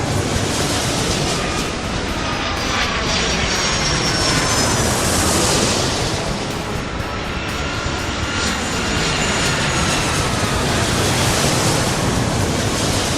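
Aircraft engine roars through a takeoff in the air-traffic-control game Airport Madness 3, a loud sustained jet rush that swells and shifts in pitch as the plane accelerates, with no talking over it.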